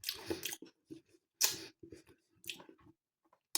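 Someone bites and chews the crunchy yet stodgy crumble topping of a Lidl Streuselkuchen, with close, crisp bursts of crunching separated by short pauses, and no talking.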